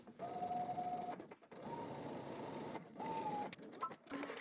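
Sewing machine stitching along a seam allowance on a McCall's M8341 garment, three close, quiet runs of whirring with a steady pitch, separated by short pauses.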